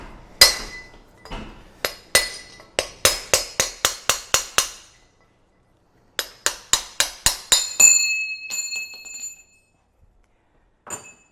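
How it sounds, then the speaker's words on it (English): A hammer drives old pinion bearing races out of a Land Cruiser 9.5-inch differential: sharp, ringing metallic strikes in quick rhythmic bursts, separated by pauses, followed by a few lighter taps. "Knock the old pinion races out."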